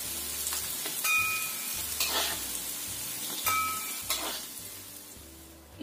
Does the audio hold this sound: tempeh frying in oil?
yes